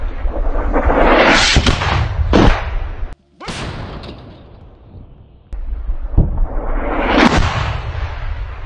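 Artillery fire and explosions on a front line near a forest belt, with loud rolling booms and sharp cracks that start and stop abruptly, a quieter stretch in the middle, then heavy blasts again.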